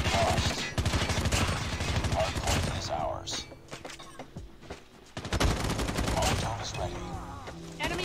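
Sustained automatic weapon fire from Call of Duty Mobile, loud and dense, with overlapping bursts and game effects, a brief lull near the middle before the shooting picks up again; a voice talks over parts of it.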